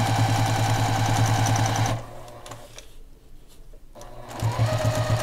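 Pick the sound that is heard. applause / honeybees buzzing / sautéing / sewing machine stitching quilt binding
sewing machine stitching quilt binding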